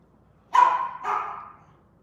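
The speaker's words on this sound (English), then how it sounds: "Is that dog getting on your nerves?" A dog indoors at home gives two close, fairly loud barks in quick succession, the first sharper and the second trailing off, with no talk over them.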